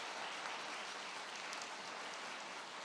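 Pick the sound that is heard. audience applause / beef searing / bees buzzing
audience applause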